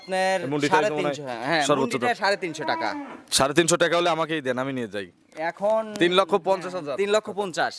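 Cattle, including a large dairy cow, mooing close by at a cattle market, mixed in with people talking loudly over the animals.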